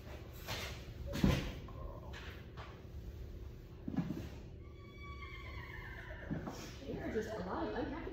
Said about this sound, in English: There are just a lot of unhappy horses here right now.